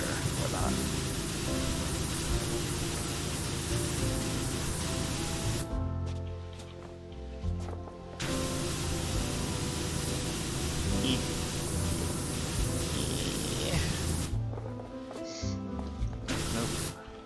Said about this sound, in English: And continually hose this tire.